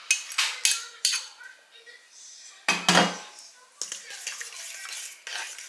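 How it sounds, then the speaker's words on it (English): Spoon stirring melted butter into mashed banana batter in a bowl, giving a run of close scraping clinks and knocks against the dish with uneven pauses, with no talking. "Mix that with your mashed up bananas."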